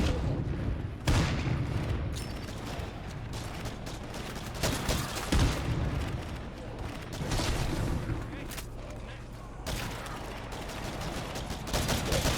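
In the video game Daybreak, gunfire crackles in bursts, with booms and mechanical clatter through a loud, dense battle, and voices come and go beneath the shooting.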